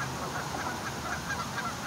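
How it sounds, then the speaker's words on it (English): Migratory geese or similar waterfowl call overhead in northern Utah in January, a continuous jumble of honking cries at moderate distance, steady throughout with no talking. "These are migratory birds."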